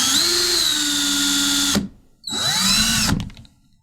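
Handheld power drill spinning a paint mixer paddle in a can of paint, a loud whining motor run that cuts off, then a second burst that winds down, alone without talk.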